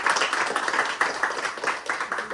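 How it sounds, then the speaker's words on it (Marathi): An audience of women at a Lokmat Sakhi Manch haldi-kunku gathering claps together, producing a dense, steady patter of many hands that rises in rhythmic bursts for a couple of seconds. "लोकमत सखीसाठी एक जोरदार टाळी असू"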